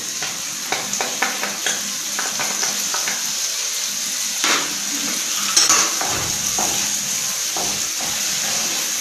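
Potato pieces fry in a pan with whisked yogurt while a spoon stirs, a steady hiss of sizzling broken by occasional scrapes and clinks against the pan.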